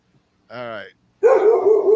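A dog barks in a horror movie trailer: a short harmonic yelp, a brief pause, then a louder run of rapid close barks that continues to the end.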